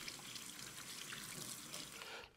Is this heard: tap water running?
yes